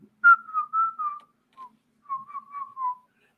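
A person whistles a short tune, two clear phrases of several sustained notes separated by a pause, close and alone against silence.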